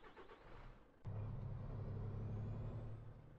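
A truck engine starts up in the Cargo Simulator 2021 game, turning over with a short crank before settling into a steady low rumbling idle that carries on to the end.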